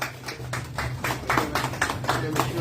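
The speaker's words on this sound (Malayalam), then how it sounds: "നല്ലൊരു കയ്യടി കൊടുക്കാം." A crowd at a Christmas film success celebration for Mohanlal's Neru claps in uneven bursts during a cake cutting, with a low electrical hum beneath and some voices mixed in.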